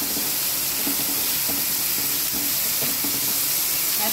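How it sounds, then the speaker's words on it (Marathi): Chopped onion and garlic frying in a pan for a garlicky fenugreek dish, a dense continuous sizzle and hiss with faint clicks of stirring, steady throughout with no speech. "बारीक चिरलेला कांदा आपण लसणीबरोबर छान भाजून घेऊया।"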